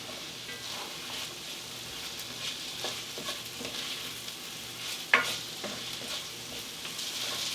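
Six cloves of sliced garlic frying in a pan with a soft, steady sizzle. Light stirring scrapes come and go, and one sharper clink lands near the middle, all fairly quiet and close.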